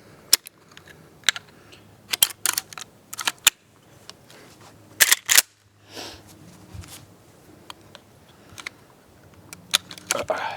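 Marlin lever-action rifle chambered in 45-70, fitted with an EOTech sight, firing a shot: a sharp, loud report amid scattered clicks and handling noises, with occasional voices around it.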